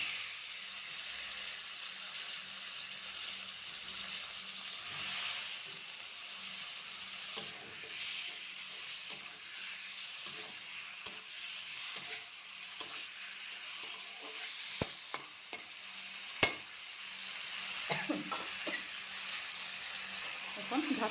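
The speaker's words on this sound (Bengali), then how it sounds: "মশলা ভাজি হয়ে গেছে, মশলা থেকে তেল ছেড়ে দিয়েছে। এখন দিয়ে দেব টমেটোগুলো" Tomatoes go into hot oil with fried spices and sizzle in a steady, bright hiss, broken by clattering stirs and sharp scraping clicks near the pan, with a voice speaking at moments.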